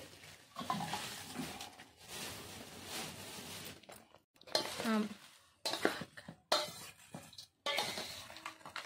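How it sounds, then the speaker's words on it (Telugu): Hot tempering oil poured over chopped cauliflower pickle, then wet, chunky stirring and scraping in a bowl, coming in bursts with short pauses between. "ఇప్పుడు ఆయిల్ అయితే పోసేస్తున్నాము"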